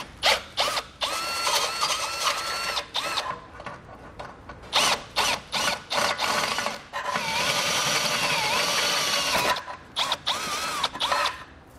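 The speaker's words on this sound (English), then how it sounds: "I'll grab my half inch drill bit and go completely through our frame." A power drill with a half-inch bit bores through a 2016 vehicle's metal frame while a Roadmaster crossbar-style base plate is installed, running in short clattering bursts and then one long, steady grinding stretch, close and loud.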